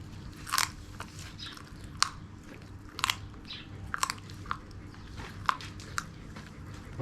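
A young animal chews and crunches raw meat and bone, with sharp bites and cracks recurring about once a second over a faint, steady background hum.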